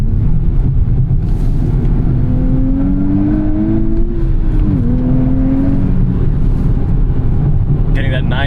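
Cabin sound of a 2024 Nissan Z under acceleration, a loud steady engine drone with a rising whine that dips once at a shift, then climbs again toward the redline.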